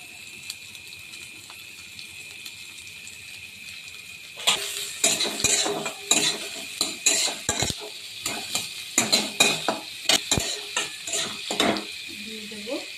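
Chopped onion hits hot oil already holding minced garlic, ginger and chili for a tarka, bursting into a loud sizzle, then scraped and stirred in quick uneven strokes that clack against the pan.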